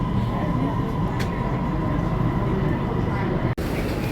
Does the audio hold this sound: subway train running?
yes